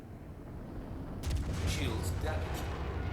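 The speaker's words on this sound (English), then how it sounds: "One s10 torpedo aimed at the top." An S10 torpedo fired at a Polaris ship in a space combat video game bursts in as a sudden, loud, booming rush over a steady background hum and then keeps rumbling.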